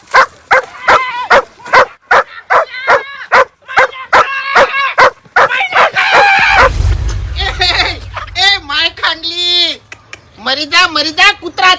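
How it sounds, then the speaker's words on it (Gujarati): A dog barks repeatedly in quick, sharp, close barks, with loud yelps and whines mixed in, against excited human voices and a low rumbling background noise partway through. "આ કૂતરો ચોકણ છે"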